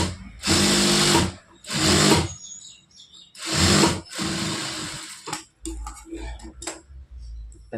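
A sewing machine stitches a blouse in several loud, close bursts of a second or so each, separated by pauses, then gives way to scattered clicks and handling noises.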